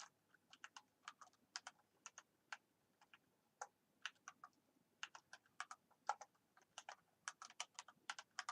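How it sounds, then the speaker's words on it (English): Someone types on a split computer keyboard, producing quiet, close, crisp key clicks in uneven bursts and short pauses, with no voices. "Getting used to the split keyboard."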